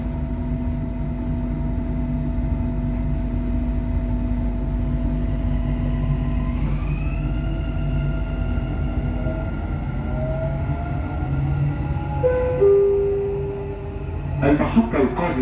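A Dubai Metro Red Line train closes its doors and pulls away, with a steady interior rumble and rising motor tones as it accelerates, and a chime near the end.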